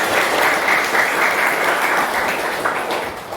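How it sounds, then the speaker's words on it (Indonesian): A room full of people claps steadily and loudly for a few seconds, a dense continuous applause that tapers slightly at the end. "tepuk tangan untuk kita semua"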